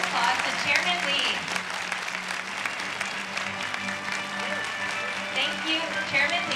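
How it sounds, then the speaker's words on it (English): An audience at a youth peace conference breaks into sustained applause, a dense wash of clapping that carries steadily throughout. "let's give a big round of applause to Chairman Lee."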